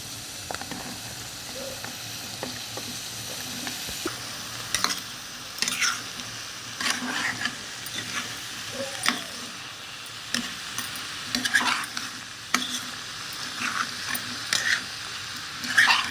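Ivy gourd pieces frying in a pan, a steady close sizzle and hiss with intermittent scraping stir strokes spread across the whole stretch.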